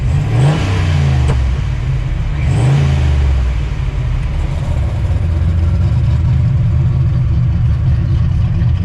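A 1986 Mustang GT with its exhaust cutout open revs loudly up close, two sharp throttle blips rising and falling early on, then settling into a deep, rough, steady idle rumble.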